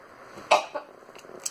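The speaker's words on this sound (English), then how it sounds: "Sorry guys, I had to sneeze." A single short sneeze that comes out like a cough, one sharp close burst followed by a couple of smaller throaty catches.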